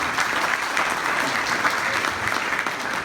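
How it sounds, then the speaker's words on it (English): An audience at a Tennessee House Speaker's political talk in Hawkins County breaks into dense, even applause that holds at a steady level from start to finish. "Clap if you think that's appropriate."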